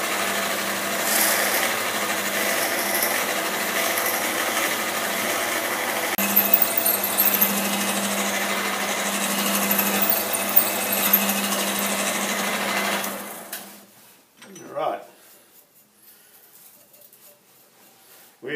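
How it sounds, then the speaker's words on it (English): A machine-shop drill press boring into a metal part with a peck-drilling cycle gives a steady, loud high-pitched machining drone for about thirteen seconds, then stops, leaving a brief clunk and quiet room noise. "There's a lot of pecking when we're drilling like this"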